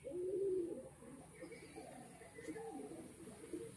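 A male pigeon coos in a low, soft, repeating burble, close by and fairly quiet, with a faint hiss of room noise underneath.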